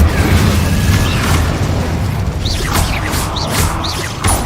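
Fire and explosion spells cast in Hogwarts Legacy: loud, continuous booming rumble with bursts, crackles and rising whooshes layered on top. No voices are heard.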